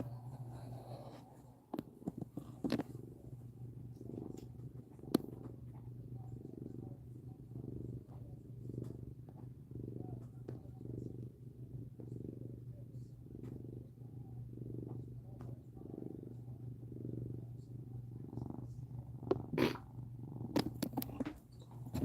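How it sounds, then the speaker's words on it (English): A pet cat purrs loudly and steadily while kneading, with a close, rhythmic rumbling pulse that repeats evenly throughout, plus a few faint clicks and rustles. "he starts purring real loud when he's biscuit making"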